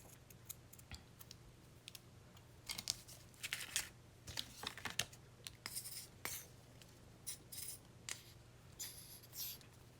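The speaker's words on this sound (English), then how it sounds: "Get my little scissors here." Quiet, irregular snipping and crisp paper rustles up close, a scatter of short clicks and crinkles with no voices.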